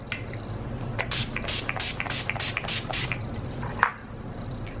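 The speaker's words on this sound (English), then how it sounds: "spray some Urban Decay De-Slick Makeup Setting Spray on there just to melt all those powders" Urban Decay De-Slick Makeup Setting Spray hisses from a pump bottle onto a face in a series of about seven quick, close bursts, followed by a soft click.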